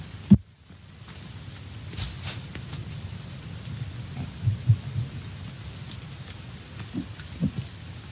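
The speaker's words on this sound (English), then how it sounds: "Thunder! It's raining." Steady rainfall from a video game storm hisses throughout, with a sharp crack near the start and a few soft rumbles of thunder rolling in later, moderately loud with no voices.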